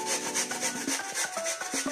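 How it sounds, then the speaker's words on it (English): Fresh ginger and garlic are grated on a kitchen grater in quick, even rasping strokes, close and steady, with no voices. "So I will use my grater to grate it."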